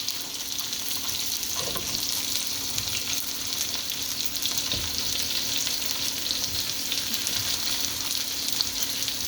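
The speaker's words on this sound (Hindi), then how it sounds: "गरम होने के बाद इसमें हम डालेंगे जिंजर एंड गार्लिक का पेस्ट" Ginger garlic paste sizzles in hot oil for bhindi masala, a dense, even frying hiss held close and steady throughout, with a few soft stirring knocks and no talking.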